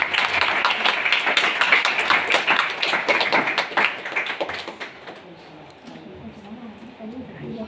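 Worshippers at a church service clap their hands in praise, a brisk, steady patter that fades after about five seconds, leaving quieter room sound and faint voices.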